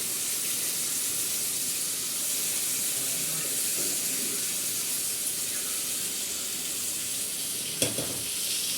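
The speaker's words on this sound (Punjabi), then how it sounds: "ਅਲਟ ਪਲਟ ਕਰ ਦਾਂਗੇ ਇਦਾਂ ਚੰਗੀ ਤਰ੍ਹਾਂ ਤੇਲ ਦੇ ਵਿੱਚ ਗਾਲ ਜਾਣ ਉਸ ਤਰ੍ਹਾਂ ਕਰਕੇ ਰਲਾ ਦਾਂਗੇ" Stuffed okra (bharwan bhindi) frying in oil in a pan, with a steady close sizzle and a soft hiss running throughout, and one sharp clack of a spoon against the pan near the end.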